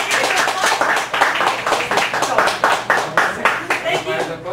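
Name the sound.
audience applause at a poetry open mic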